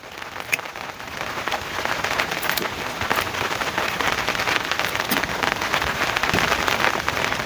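Rain pours steadily onto a rooftop vegetable garden during a harvest, a dense, even patter with crisp drop hits that builds slightly and continues throughout, with no voices.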